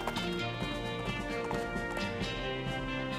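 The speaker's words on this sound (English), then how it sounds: "This is me riding a horse." Rhythmic clip-clop hoofbeats of a horse being ridden in the video game West of Loathing, steady and fairly close, with faint whinny-like tones mixed in.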